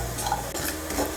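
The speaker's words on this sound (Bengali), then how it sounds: "শুকনো খোলায় ভেজে নেব।" A spoon stirs panch phoron and radhuni seeds being dry-roasted in a wok, with continuous scraping and light rattling under a faint sizzle; no one speaks.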